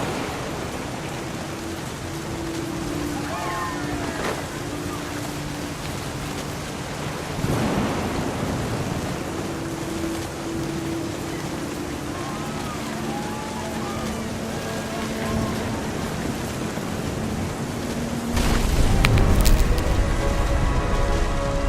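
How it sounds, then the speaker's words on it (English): Thunder rumbles through steady rain in the What Remains of Edith Finch video game, a continuous hiss of rainfall with rolling swells and a louder crack near the end. "The thunder sounded much too close and full of angry power"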